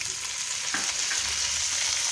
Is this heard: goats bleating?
no